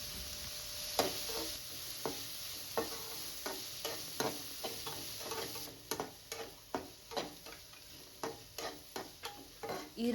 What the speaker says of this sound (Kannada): ಈರುಳ್ಳಿನ ಚೆನ್ನಾಗಿ ಫ್ರೈ ಮಾಡ್ಕೋಬೇಕು.